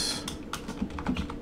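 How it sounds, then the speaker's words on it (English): Short burst of typing on a computer keyboard while entering text in video editing software, a handful of quick, close, crisp key clicks with no voice. "And I will just type in GS"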